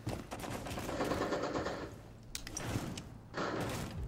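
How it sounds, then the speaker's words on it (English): Video game gunfire, sustained rattling bursts heard at moderate distance, broken by a couple of brief pauses and sharp metallic clanks, with no talk over it. "Tell me when to start firing. Fire now."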